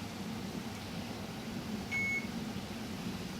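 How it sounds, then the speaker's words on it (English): A kitchen timer gives a single high electronic beep briefly over a steady low appliance hum, during pickle canning with a full, boiling pot. "when your timer goes off"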